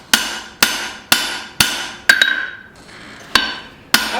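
A hammer strikes a steel cleaver while forging its bevel, sharp metallic blows landing at a steady rhythm about every half second, with a short run of ringing taps and a brief pause partway through, loud and close.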